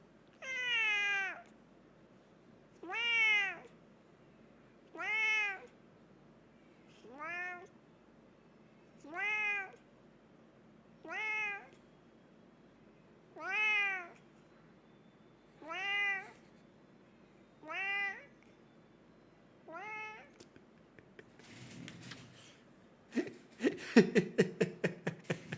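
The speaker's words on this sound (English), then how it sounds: "he's the most vocal cat I've ever met in my life" A very vocal cat meows about nine times at a steady, unhurried pace, each call loud and close with no talk over it. Rustling and clattering handling noises follow at the end.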